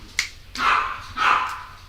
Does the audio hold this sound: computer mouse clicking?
no